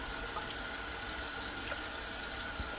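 Steady, continuous rush of water poured into a pot of beef stew, filling up to the height of the meat, loud and unbroken with no talk.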